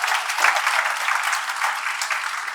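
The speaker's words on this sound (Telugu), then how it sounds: "బాగా చేస్తే చప్పట్లు కూడా వచ్చు కదా గట్టిగా." Sustained applause from students in a classroom, dense and steady hand-clapping throughout, fairly loud and close, with no talk over it.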